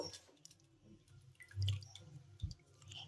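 Water being squeezed by hand from chhena cheese curd wrapped in a cloth bundle: soft squishy presses with wet drips, quiet and close, a firmer squeeze standing out midway, no talking.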